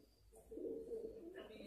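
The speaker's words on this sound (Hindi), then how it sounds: "और एक नई खपतरी देखो भाई," A high-flyer pigeon cooing once in a soft, low, warbling call, close but quiet against faint background noise.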